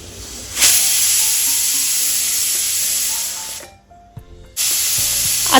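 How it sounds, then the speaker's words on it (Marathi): A pressure cooker with dal inside whistles with a loud, sustained hiss of escaping steam. The hiss cuts out briefly near the end, then bursts back in. "आता आपल्या कुकरच्या 2 शिट्या झालेल्या आहे"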